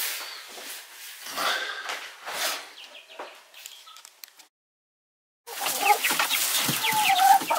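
Chicks cheep and cluck close by in busy bursts while being carried to a henhouse, with a brief silent gap before the chirping resumes loudly.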